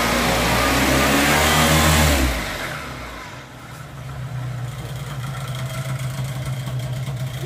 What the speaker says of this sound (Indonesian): para motor sedang diuji coba engine-nya siang ini untuk siap terbang